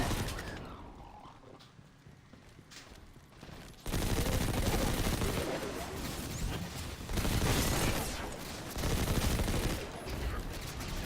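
Rapid SMG fire in Destiny 2 rattles in dense, loud bursts, starting quieter and then swelling into sustained automatic fire with brief pauses between strings of shots.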